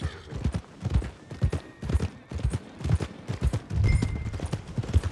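Horse hooves clip-clop steadily on ground in Red Dead Redemption 2, a brisk, even rhythm of close, distinct hoof strikes running through the whole stretch with no talking.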